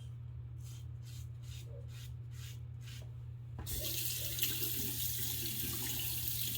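A safety razor is rinsed under a running tap. Faint intermittent splashes come first, then a steady close rush of water over a low background hum.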